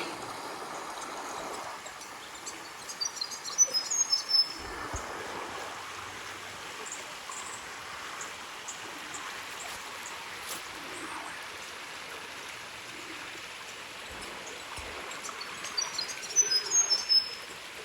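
Steady rushing of creek water at Horseyard Flat in the Victorian High Country flows throughout, with bird chirps and tweets breaking out nearby in short bursts.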